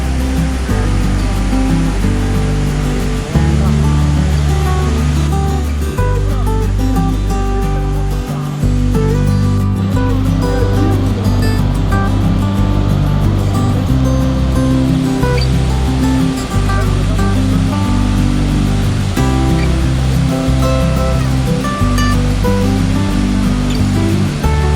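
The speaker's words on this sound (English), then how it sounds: "we spent little time here looking at the flow of waterfall" Kanthanpara waterfall in Wayanad, Kerala, pours in a loud, constant broadband rush that fills the whole clip, with steady music playing over it.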